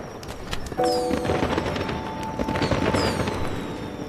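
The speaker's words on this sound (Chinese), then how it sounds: "烟花在天上炸" Continuous crackling and popping of fireworks bursting at a distance, dense and steady throughout.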